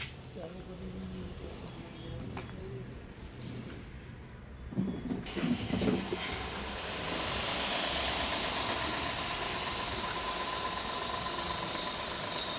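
A tractor engine is started during a pre-delivery check in a dealership yard, turning over and settling into a steady, hissing rumble that grows slightly louder and holds, with faint voices around.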